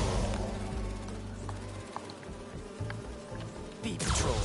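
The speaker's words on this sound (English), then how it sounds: "Do you see those little holographic bee wolves?" Holographic bee wolves buzz in the Spider-Man 2 video game, a continuous insect-like drone with fluctuating pitch and a brief whoosh near the end, without speech.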